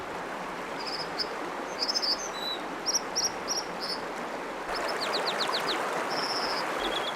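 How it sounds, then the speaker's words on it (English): Small dipper singing in a mountain setting, quick high chirps and trills repeated in short bursts over a steady rush of flowing water. "the voice of the dipper is something everyone loves"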